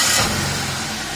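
A car engine cranks and catches at close range, its start loud and brief, then it settles into a steady running hum, with no talk over it.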